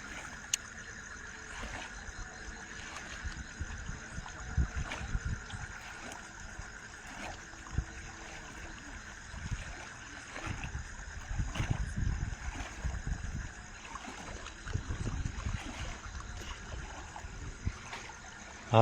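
Water flowing in the Narmada canal's Morbi branch near Kadiyana at night, a steady, fairly faint rushing wash with low rumbling swells and no voices over it.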